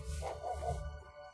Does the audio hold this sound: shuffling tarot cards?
no